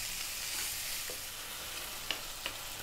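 Frozen prawns fry in a pan with a steady, soft hiss of sizzling, broken by a couple of brief scrapes and taps as they are stirred, quiet and without talk.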